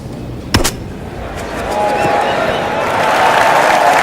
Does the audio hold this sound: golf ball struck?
yes